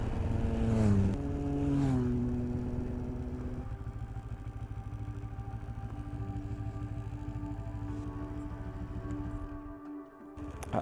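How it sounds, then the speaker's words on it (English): Two motorcycles passing from the opposite direction on a road in the Changtang wilderness of China, engines swelling loud as they approach and go by, then a steady engine drone fading away. "Two motorcyclists from opposite direction,"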